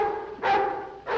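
Dogs give two sharp barks about half a second apart, moderately loud and slightly distant, with no talk over them.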